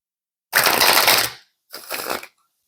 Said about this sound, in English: Throwing all the cards away.